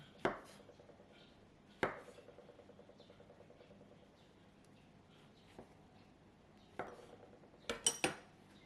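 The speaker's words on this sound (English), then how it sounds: "Cut 4 pieces of fresh shiitake mushroom into half" A knife cuts fresh shiitake mushrooms in half on a cutting board, giving a few sharp, close chops spaced irregularly and ending in a quick cluster of cuts, with quiet gaps between them.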